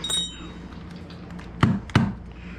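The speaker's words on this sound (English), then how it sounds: "This is a great hammer, by the way." A hammer strikes metal hardware twice in quick succession while a projection screen is being dismantled, giving two sharp, ringing clinks about a third of a second apart after some quieter handling noises.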